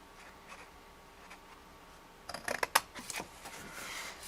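Paper or cardstock cut at an angle with scissors while making a cookie box, a quiet start followed by a close cluster of crisp snips and rustles in the second half, no talking.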